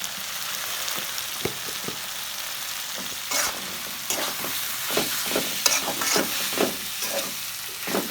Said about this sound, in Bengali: জিরা ফাঁকি দিয়ে একটু নাড়াচাড়া করবো।